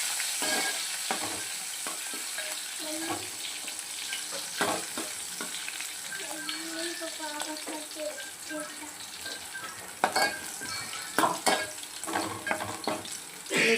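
Garlic sizzling in hot oil on a low flame for a Maharashtrian toor dal tadka, a steady fry crackle with occasional stirring clatter and louder spatters near the end.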